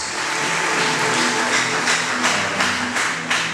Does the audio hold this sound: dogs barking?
no